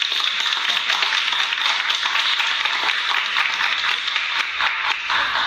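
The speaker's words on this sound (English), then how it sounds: "I would like to ask everyone to please give a round of applause" A room full of people applauds steadily for the guest speaker at a Startup Grind event, sustained dense clapping at an even loudness with no voices over it.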